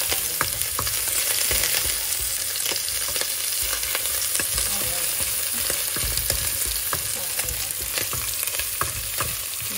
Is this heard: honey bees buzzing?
no